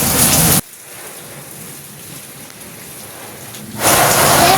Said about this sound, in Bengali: দেখো গাইস, ফুলগুলো কত সুন্দর দুলছে, কত সুন্দর লাগছে বৃষ্টির পানিতে, তাই না?